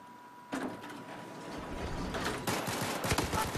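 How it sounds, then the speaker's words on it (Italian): Gunfire in Battlefield 4: crackling automatic bursts rattle in close, quiet at first and then thickening into rapid overlapping shots, with a sharper volley near the end and a faint steady tone beneath. "Ce l'ho sparato e non è morto!"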